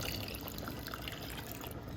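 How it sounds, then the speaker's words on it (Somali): Water is poured steadily into a cooking pot while making a Ramadan shurbad soup, a soft continuous splashing trickle that lasts about two seconds, close by, with no talking. "markaa hadda biyaan kusoo darayaa"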